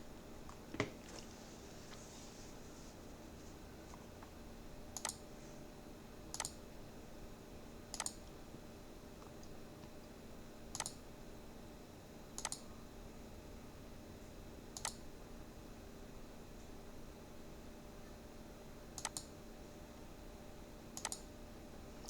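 Sparse, crisp single clicks at irregular intervals, a few seconds apart, over a quiet steady room hum while setting up a monthly budget on a computer; likely a mouse being clicked, with no talking.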